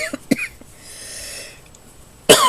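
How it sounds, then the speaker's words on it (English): A couple of short, sharp coughs at the start, a soft breathy pause, then another harsh cough near the end, close by. "I don't know why I keep coughing lately."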